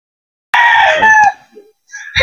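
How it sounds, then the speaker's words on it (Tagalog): Super Brown Red gamefowl at a game farm: a rooster lets out one loud, close crow with a drawn-out tail, followed by a short pause and the start of another call or cluck. "Pakaganda ng mga manok nila dito."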